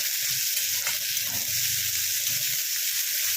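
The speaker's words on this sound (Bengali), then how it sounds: "এটাও একদম নরম করে ভালো করে ভেজে নেব।" Potatoes and onions frying in oil for nonta simui vermicelli, producing a loud, continuous close sizzle with faint stirring and no talk.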